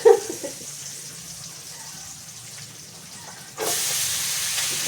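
Food stir-frying in a hot pan for an iftar dish, a steady close sizzle that suddenly flares louder near the end, as if something new hits the oil.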